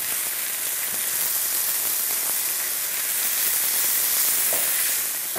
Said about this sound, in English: We'll allow the leeks to cook for 2 to 3 minutes, or until they start to become a little golden brown